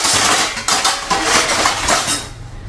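Dishes and cooking vessels being loaded into a dishwasher, heard as a loud, continuous clatter of pots, plates and cutlery clinking close by, fading out at the end.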